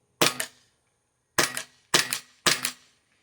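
An airsoft pistol fires four sharp pops, one alone and then three in quicker succession, each a crisp close snap with the slide clacking back and a brief ring after.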